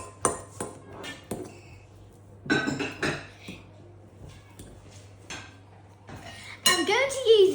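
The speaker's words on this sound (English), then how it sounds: "Now we just need to mush them up with this fork." A fork mashing peeled bananas in a bowl for chocolate banana bread, giving scattered clinks and scrapes of metal on the dish, close by, with a voice speaking near the end.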